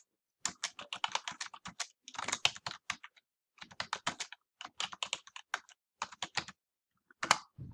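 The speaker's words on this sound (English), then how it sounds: "Then I will type the second line in." Typing on a computer keyboard comes in quick, close runs of clattering keystrokes separated by brief pauses, a few heavier key hits standing out, with no speech.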